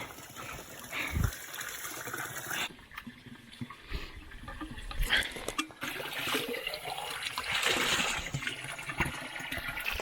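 Water flows and gushes in the Alps, an uneven close rushing that swells and dips, with a few knocks and brief handling noises.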